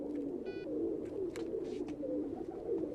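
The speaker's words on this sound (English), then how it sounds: "we can't shoot with pigeons cooing and flapping around everywhere" Pigeons coo steadily in a film studio, a low continuous burbling murmur close by, with a few faint clicks and rustles over it.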